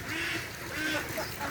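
Ducks quack at their newly built pool, a dense, continuous chorus of overlapping calls, loud and close, with no voices over it.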